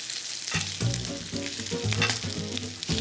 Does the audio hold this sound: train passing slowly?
no